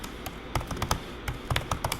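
Typing a Python command on a computer keyboard: quick, irregular clusters of close, crisp key taps in two short bursts separated by a brief pause, with no talking.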